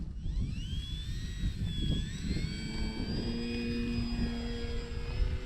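A Durafly Tundra RC model airplane flies overhead, its electric motor giving a steady whining buzz that rises and falls in pitch as the plane passes at moderate distance, heard alone over faint outdoor background.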